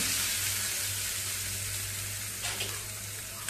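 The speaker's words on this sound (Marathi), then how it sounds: "आता तयार झालेली फोडणी चटणीवरती घालूया." Hot tempering of oil with asafoetida and dried red chillies poured over fresh coconut chutney, giving a steady close hiss and sizzle with a low hum beneath and no talking.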